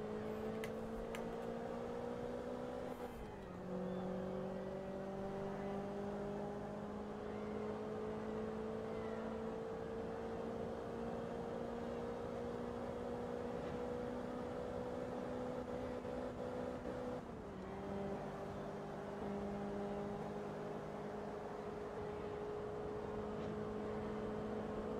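A Ford Focus engine in Forza Motorsport 2 drones steadily at high revs, its pitch dipping briefly with each gear change, a damaged car stuck below fifth gear, continuous and alone.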